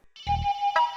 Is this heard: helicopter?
no